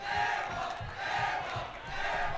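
A high school boys basketball crowd in the West Side gym reacts to an air ball at the buzzer with loud jeering and chanting in rising and falling waves, sustained and fairly distant.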